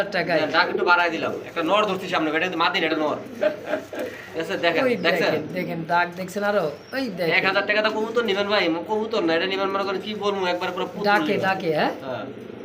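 Racing pigeons at a Bangladeshi pigeon sale coo faintly, their soft calls mostly buried under continuous nearby talking.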